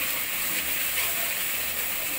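Ginger garlic paste sizzles in hot oil in a pan while a chicken korma is being cooked, giving a steady, dense, bright hiss that continues without a break.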